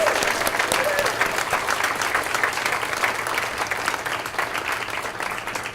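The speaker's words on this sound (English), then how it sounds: "If we could give them a round of applause" An awards luncheon audience gives sustained applause, thick and continuous at a steady level, with faint crowd murmur mixed in.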